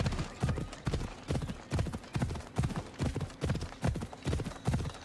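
A horse gallops in Assassin's Creed Odyssey, Fate of Atlantis, its hooves pounding out a steady, rapid clip-clop rhythm close and clear, with no talking over it.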